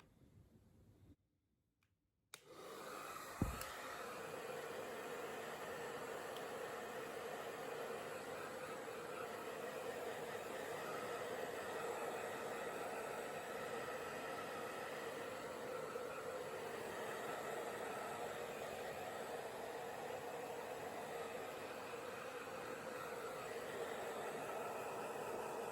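Hair dryer on its lowest heat setting blowing over a wet silkie chicken: a steady, broad whooshing hiss that starts after a short quiet pause and a click, then runs evenly and fairly faint to the end.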